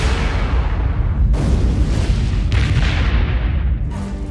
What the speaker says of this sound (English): A tranquil Sunday morning is interrupted by a series of massive explosions.